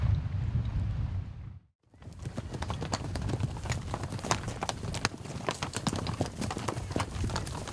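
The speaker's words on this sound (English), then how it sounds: "It's a sight that never gets old, a stampeding horse herd." A herd of horses stampedes on a ranch at day's end, driven by wranglers: dense, continuous hoofbeats drum loud and close for several seconds after a brief gap, with wind rushing over the microphone.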